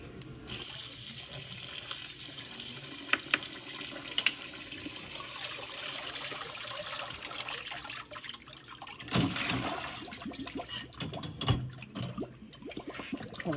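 Water from cooked rice drains in a continuous soft trickle and splash, with occasional clinks and a louder gush partway through, steady and close with no talking.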